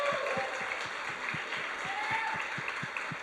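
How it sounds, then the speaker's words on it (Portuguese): A church congregation applauds throughout, steady dense clapping with a regular beat under music and faint voices in the background. "Você pode aplaudir o Senhor?"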